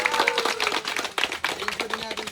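A small group of about five people clapping together at an outdoor gathering in Cabangan, Zambales, a brief quick patter of hand claps close by, with voices mixed in.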